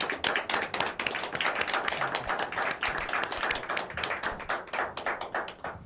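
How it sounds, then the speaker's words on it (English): An audience claps steadily and densely for several seconds, a continuous patter of many hands close by with no talking over it. "give them a round of applause"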